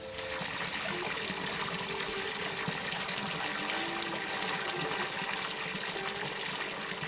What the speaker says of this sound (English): turn on the tap and fill up the tub